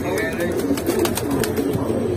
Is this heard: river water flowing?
no